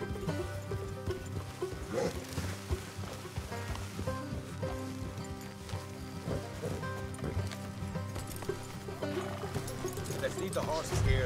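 Horses in the open-world western game Red Dead Redemption 2 give hoof clip-clops and a whinny, fairly faint under game music, ambient sound and character dialogue.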